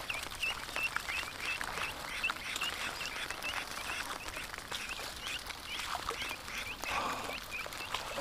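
Ducks quacking repeatedly in a muddy outdoor setting, a steady stream of short nasal calls at moderate distance over a soft background hiss, with no talking.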